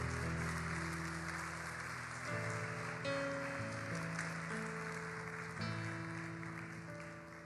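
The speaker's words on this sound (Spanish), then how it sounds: "dele el aplauso al Señor" A church congregation applauds together, a broad, sustained wash of clapping over a held musical tone, fading slightly toward the end.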